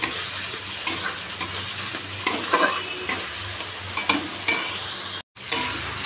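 Potatoes stir-fried in hot oil with salt, turmeric and spices, a steady sizzle broken by scraping stirs of a spatula in the pan, with a brief dropout near the end.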